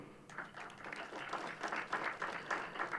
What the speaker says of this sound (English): give a warm round of applause to the HOEs and HODs